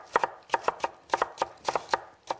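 Knife chopping vegetables on a cutting board, cut into medium julienne strips: crisp, evenly spaced chops in quick pairs and triplets, close and clear with short pauses between bursts, no talking.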